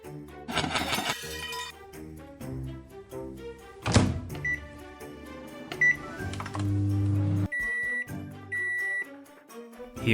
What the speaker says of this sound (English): He melted it in the microwave